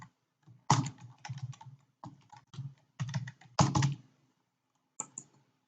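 Quick bursts of keystrokes on a computer keyboard as a username and password are entered at a login screen, clustered clicky taps with short pauses between groups, close and clear.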